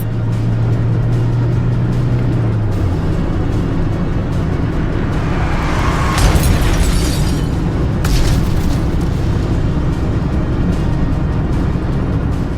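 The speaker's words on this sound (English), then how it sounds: "a driver caught a crash that shattered everything in its path" A South Carolina dashcam captures a car crash, a loud sustained roar of engine and road noise, broken by a sharp crashing burst and then a second impact with shattering debris.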